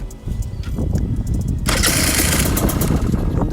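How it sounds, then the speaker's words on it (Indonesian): A Husqvarna dirt bike engine is started with a push of the electric starter, a brief crank and then a loud, crackling two-stroke idle close by, with no talk. "Terus kita mau coba hidupin dulu buat Husky ini, untuk suaranya gimana"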